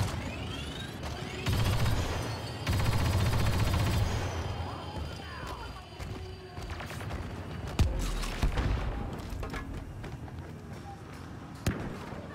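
Sustained gunfire rattles through a Battlefront 2 battle, with dense bursts of automatic fire and sharp blasts layered over constant combat noise for the whole stretch, loud and close.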